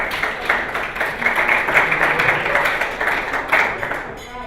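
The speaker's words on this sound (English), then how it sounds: "Let's give her a big round of applause." Symposium audience applauding a speaker as she takes the stage, a dense, steady patter of many hands clapping at moderate distance, sustained throughout and tapering slightly at the end.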